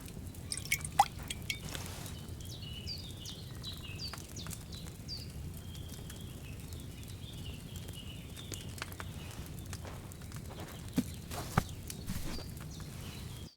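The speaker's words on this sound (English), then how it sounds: "All you have to do now is decant it. Get a phial and pour it in." In Kingdom Come 2, a chamomile decoction is decanted into a small glass phial, giving soft, sparse liquid drips and trickles over a quiet room tone, with a few sharper clinks near the start and end.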